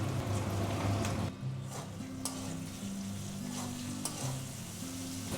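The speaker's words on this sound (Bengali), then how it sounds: "এবার দিয়ে দেবো টমেটো" Tomatoes added to a spice masala frying in a pan for a Bangladeshi chela fish curry with taro stems, producing a sharp burst of sizzling that settles into steady crackling frying with stirring scrapes close by.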